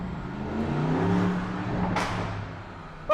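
A Porsche Cayenne Turbo S revs inside a tunnel, its engine note rising and swelling with echo before a quick whoosh and a short sharp burst near the end.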